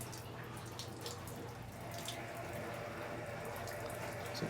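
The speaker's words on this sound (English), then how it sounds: "So just giving them some fresh water." Fresh water running from a tap or hose into a drinking dish at a zoo animal enclosure, a steady continuous splashing fill under a low background hum, with no talking.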